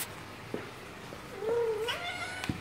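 A pet cat indoors gives one drawn-out, wavering meow near the middle, fairly close, with small knocks and clicks around it and a quiet room tone underneath.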